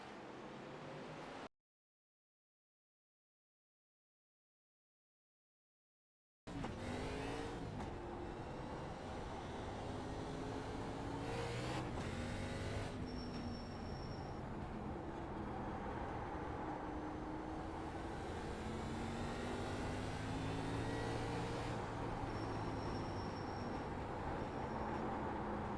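ARCA race car engine on a hot lap around Langley Speedway in the iRacing video game, a steady loud engine drone with rising and falling pitch sweeps through gear and corner changes, after a brief silence near the start.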